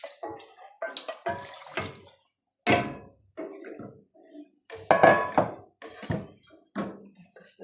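Metal pot clanks against a sink as water splashes and runs in short bursts, close by and fairly loud.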